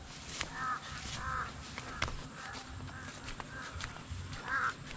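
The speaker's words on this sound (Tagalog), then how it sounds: "ang kapal po ng uwak yan" Many crows cawing around a corn field during harvest, repeated harsh calls at moderate distance rising and falling over steady outdoor background noise, with no talk.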